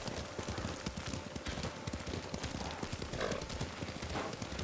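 Horse hooves clip-clop in a steady trotting rhythm while riding in the video game Ghost of Tsushima, fairly quiet, with soft ambient wind behind.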